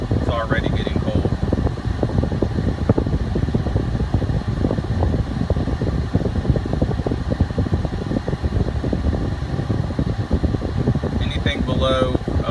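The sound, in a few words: car air conditioning fan running at idle, Jeep Cherokee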